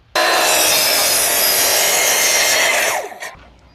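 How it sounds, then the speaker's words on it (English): A chop saw cuts through a wooden cross piece for a mailbox post, giving one loud, steady whining cut of about three seconds that ends abruptly and spins down, close by with no talking. "Let's go over to the chop saw and we'll cut that cross piece at 31 inches."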